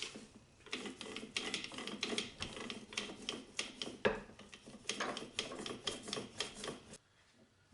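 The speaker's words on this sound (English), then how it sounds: "I have a rolling pin to apply good even pressure" A rolling pin pressed and rolled over a leather strop, giving a steady rubbing, rasping texture with repeated strokes, fairly close and moderately loud, with no talking.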